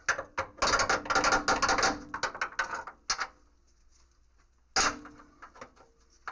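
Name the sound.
bolt being put into a hole during coil spring replacement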